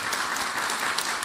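Audience at a panel discussion on European strategic infrastructure claps in a steady, dense wash of applause at moderate level, with no speech over it.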